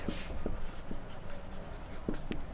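Marker or chalk writing on a classroom board, with a few short taps and strokes over a hissy room background and no talking.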